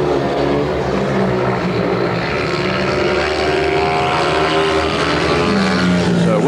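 Speedway motorcycles roar around the track on the final lap of an opening heat at a Belle Vue versus Oxford meeting, a loud, continuous droning engine blare with shifting pitch that fills the whole stretch without a break.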